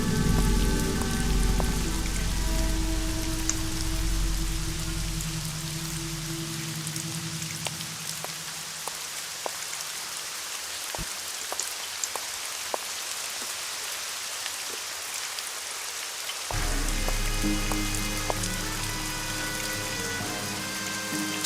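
Rain in the Nancy Drew game Legend of the Crystal Skull falls steadily with pattering drops, heard close and continuous over low droning game music that fades out midway and returns near the end.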